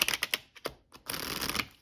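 A smaller standard-size tarot card deck is shuffled in quick, crisp bursts of riffling and card clicks, a brief pause in the middle, then a denser flurry of shuffling close up.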